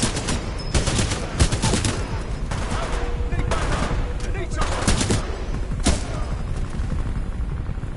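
Dense, continuous gunfire from enemies in Titanfall 2 targeting the titan BT: overlapping bursts and rapid shots rattle steadily through the whole stretch, with a few sharper cracks standing out above the battle noise.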